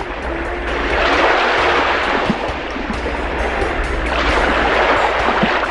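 Ocean waves breaking on Panambur beach in Mangalore, a loud, continuous roar of surf that swells and rolls without pause.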